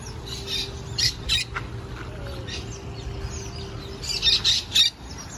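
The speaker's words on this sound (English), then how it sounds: "Birds." Birds squawk repeatedly inside an aquarium's bird exhibit, with sharp calls clustered near the start and again toward the end over a steady indoor hum, loud and fairly close.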